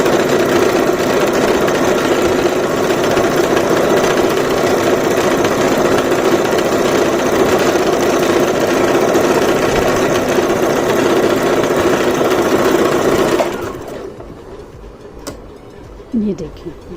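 Brother GS1700 sewing machine stitching a poncha design, a steady, loud mechanical whir running continuously for about thirteen seconds before stopping abruptly.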